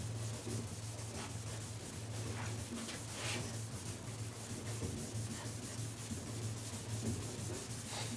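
Light hand sanding of a painted car panel with 600 grit sandpaper on a block, a steady soft scratchy rubbing that continues without pause at close range.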